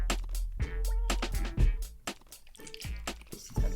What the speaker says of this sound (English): And we pour the wet mixture in.